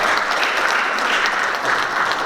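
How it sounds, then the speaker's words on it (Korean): Audience applause at a research society's study meeting: dense, steady clapping from a crowd, loud and close throughout, with no pauses or voices over it. "다시 한번 큰 박수 부탁드리겠습니다."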